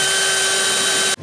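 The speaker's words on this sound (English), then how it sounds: "I'm gonna grab a step bit and we're just gonna hollow out that hole so that we can get our hardware in." A power drill spins a step bit to enlarge a hole in a forged upper control arm for a Toyota truck, giving one steady whining, grinding tone that stops abruptly after about a second.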